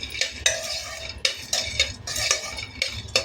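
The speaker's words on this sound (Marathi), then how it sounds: "आता आपण हे वडे छान परतून घेऊ।" Moong and moth lentil vadas are sautéed in a pan, with a utensil clinking and scraping against the metal in irregular taps and stirs, fairly faint and without talk.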